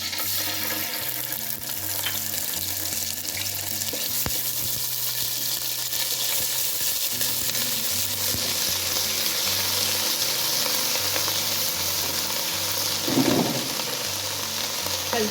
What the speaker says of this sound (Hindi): यहाँ मैं अदरक लहसुन का पेस्ट डाल रही हूँ।